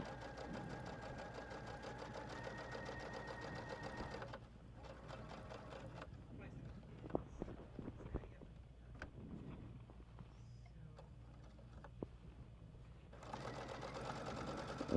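A sewing machine stitches a seam on a folded fabric basket in steady mechanical bursts, pausing midway for scattered handling clicks and then resuming, fairly quiet with no talking.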